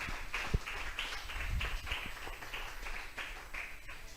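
Church congregation clapping in praise during a sermon, a rhythmic, fairly sparse patter of hand claps in a steady beat with a few sharper nearby claps, moderately faint in a reverberant hall.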